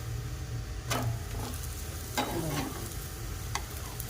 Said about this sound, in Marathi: दुसऱ्या बाजूने पण खरपूस भाजून घ्यायचं